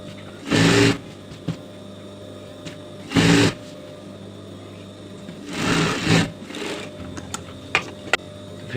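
A sewing machine stitches lehenga panels in short bursts, with three or four quick whirring runs separated by pauses and small clicks as the fabric is repositioned.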